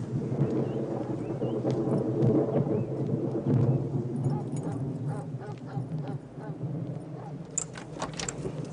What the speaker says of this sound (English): Looks like we got another storm rolling in.